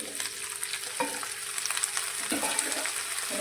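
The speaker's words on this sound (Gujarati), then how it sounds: "અને સાથે આપણે રીંગણને પણ અંદર લઈ લઈશું" Brinjal pieces drop into papdi beans already frying in a kadai, giving a steady hiss of hot oil with a few stirring scrapes and clatters partway through, close and alone with no talk.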